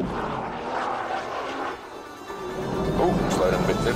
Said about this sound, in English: open the throttle, and it is virtually instant acceleration